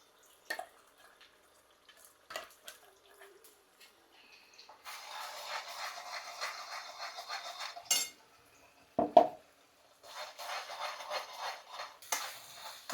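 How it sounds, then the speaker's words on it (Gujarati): Spice masala stirred in hot oil in a pan over a full flame: scattered clinks of a spoon against the pan, then soft sizzling, scraping stretches with a sharp knock in between, fairly quiet overall. "હવે આ મસાલો બધો આપણે આવી રીતે તેલમાં સોતરી કાઢીએ."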